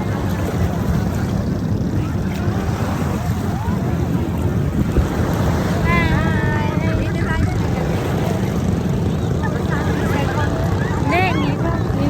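Large ocean waves at a beach in Zambales roll and surge amid heavy wind noise, a constant loud wash with excited voices calling out over it.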